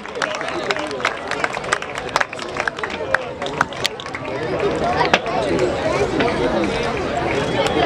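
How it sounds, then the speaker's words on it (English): A crowd applauds at an under-12 youth football award ceremony, dense clapping and cheering building steadily over a noisy murmur of voices, with people talking throughout. "Can we have a loud round of applause for Under 12 category, fourth place, MSSA."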